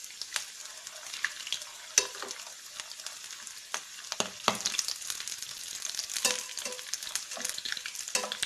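Sweet corn balls frying in hot oil until golden brown and crisp, a steady faint sizzle broken by scattered crackles and pops, with no talking.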